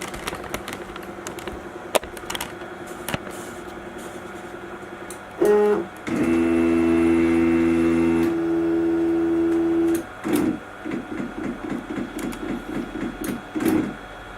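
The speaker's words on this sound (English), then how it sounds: "I basically always run a homing cycle" An OX CNC router runs its homing cycle: stepper motors whine in steady tones, pausing and shifting pitch as each axis moves, then a series of short rhythmic buzzing pulses toward the end, close and alone with no talking.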